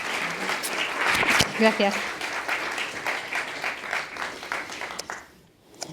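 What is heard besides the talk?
audience applause for someone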